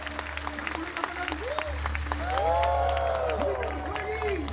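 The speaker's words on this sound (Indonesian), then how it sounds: "Berikan tepuk tangan buat Tuhan." A church crusade congregation in Manado applauds, steady crowd clapping rising and swelling louder toward the end, with cheering voices and a preacher's amplified speech over the hall.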